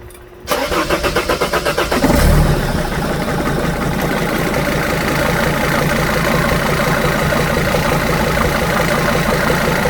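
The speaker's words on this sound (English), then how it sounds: "try to give it a crank real quick" A 2004 Sprinter 2.7L diesel with a leaking high-pressure fuel pump cranks for a couple of seconds with a rhythmic chug, catches, and settles into a steady, close idle.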